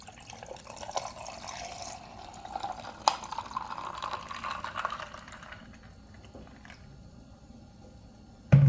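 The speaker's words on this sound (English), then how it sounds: "And I'm going to just pour." Jamaican sorrel drink is poured into a glass of ice in a soft, steady splash lasting a few seconds, then tapers off to quiet drips, faint and close, ending with a brief knock.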